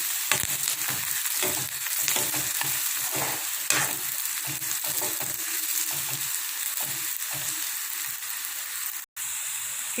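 Onions fry with turmeric and asafoetida in a hot pan while a spoon stirs them, making a steady close sizzle broken by irregular scraping stirs.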